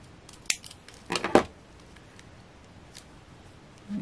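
Scissors snip through card in a few short, crisp cuts at close range during a papercraft project, followed by quiet handling.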